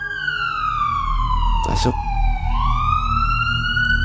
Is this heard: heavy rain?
no